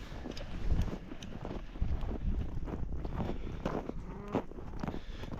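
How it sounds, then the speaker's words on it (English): Wind gusts roar across an open pasture on a ranch during a winter storm, a rough, buffeting rumble hitting the microphone, while cattle low faintly nearby. "It's not really amounting to much snow, but it's been pretty windy."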